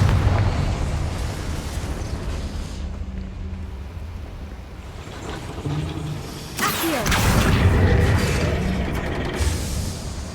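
A Confringo fire spell explodes in Hogwarts Legacy, a sudden loud burst partway through that flares into a roaring, crackling blast and lingers to the end over a dull, windy game background.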